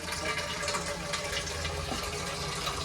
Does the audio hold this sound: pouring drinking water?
yes